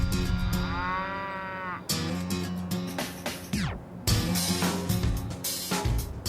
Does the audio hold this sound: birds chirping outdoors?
no